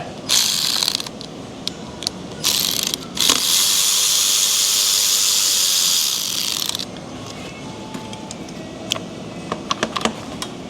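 A socket ratchet removing a 10 mm bracket bolt on a Duramax LBZ 6.6 diesel engine during a teardown, with loud close bursts of rapid clicking, a long sustained ratchet run, then scattered lighter clicks and taps.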